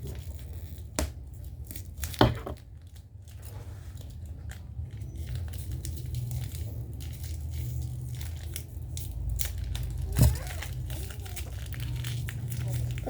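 Packaging is torn and crinkled open while unboxing a statue of Our Lady of Fatima, with rustling plastic and a couple of sharp ripping bursts amid soft handling noise.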